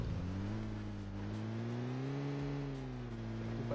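Steady engine drone of a car driven in the mobile battle royale game PUBG Mobile, its pitch rising and falling slightly as it cruises, loud and continuous for the whole stretch with no voices.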